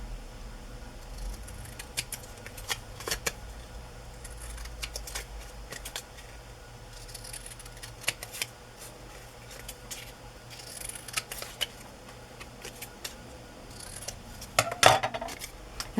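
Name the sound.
scissors trimming a vintage photo for a journal page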